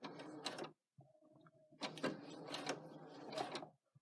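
A sewing machine runs in short bursts, stitching forward and back with a mechanical whir, close up and fairly quiet, with brief pauses between runs.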